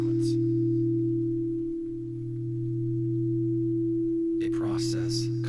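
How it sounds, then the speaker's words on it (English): Signal tones from the television show Pluribus hold as steady electronic hums, a low tone and a higher one together for several seconds, ending in a short burst of brighter noise. "A process complicated by having to map each of the 4 signal tones."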